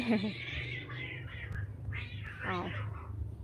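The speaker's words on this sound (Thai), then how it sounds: "แมวกัดกัน" Cats fight at a home during a live stream, with yowling, caterwauling cries rising and falling over a few seconds, and a woman's brief exclamation mixed in.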